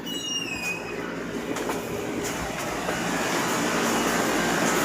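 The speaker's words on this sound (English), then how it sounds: "the compressors are on, that means we still have milk in the tank" Milk bulk tank compressors running in a dairy farm's bulk tank room, a loud continuous mechanical roar and hum with metallic squeals and faint clatter, steady throughout.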